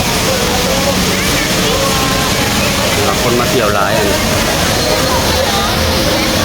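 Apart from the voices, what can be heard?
waterfall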